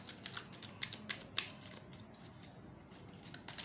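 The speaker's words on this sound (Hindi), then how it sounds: "इसको ज़रा डिफरेंट तरीके से शफल करते हैं।" Tarot cards riffled and shuffled by hand, a run of soft papery flutters and taps close up with no voices.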